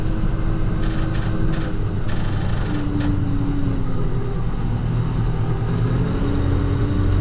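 A John Deere 6120E farm tractor engine drones steadily and close while driving with round bales, a constant loud diesel rumble with small shifts in pitch and no talk.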